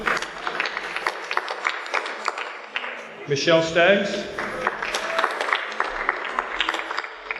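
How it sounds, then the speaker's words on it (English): An audience at a 2015 high school underclass awards ceremony applauds students, a steady patter of clapping running throughout while an announcer reads out names over it. "Give a round of applause for all these students"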